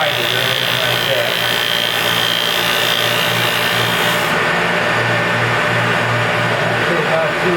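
A Felder Profil 45 Format4 shaper fitted with a 60 mm Schleiffix 60-grit sander attachment sands wood. It gives a loud, continuous abrasive rubbing and hum over a steady motor drone, and the hiss eases slightly partway through.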